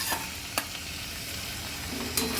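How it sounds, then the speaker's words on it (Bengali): A hot tadka of dried red chillies, chana dal and cumin fried in oil is poured into dal, giving a steady low sizzle with a few sharp clinks of a utensil, close and alone without speech. "দেখো আমি তড়কাটা মধ্যে দিয়ে দিলাম।"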